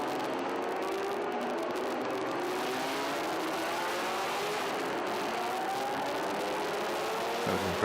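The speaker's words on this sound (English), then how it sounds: "You can hear engines in the background" Several historic racing car engines roar and rev continuously at Estoril, loud and steady, with pitch rising and falling as cars accelerate and pass.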